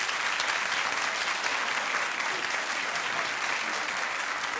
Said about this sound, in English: Oh, keep clapping. No, clap louder.